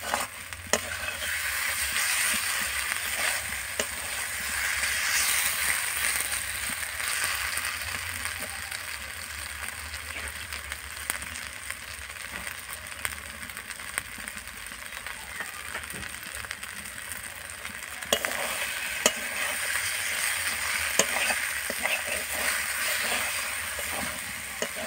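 Meat sizzles in hot oil with ginger, a dense, continuous frying hiss that fills the background, broken by scattered scraping and clicking as it is stirred around the pan.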